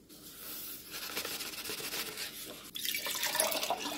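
Water is poured into a 2-litre garden sprayer container for mixing a treatment solution. It makes a close, steady trickle and splash that grows louder near the end.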